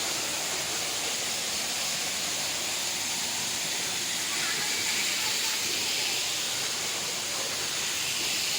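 Waterfall in the hills near Bhubaneswar: a steady, broad rushing roar of falling water, loud and unbroken throughout, with faint voices beneath it.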